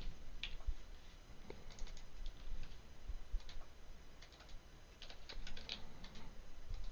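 Computer keyboard keys and mouse buttons click in quick, irregular bursts while items are shift-clicked into storage during a Minecraft-style modded game, close and fairly quiet with no talking.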